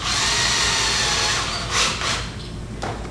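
A power drill drives number 8 fasteners into place beneath a product during installation, a loud steady whir running close and continuous, briefly surging and easing near the end.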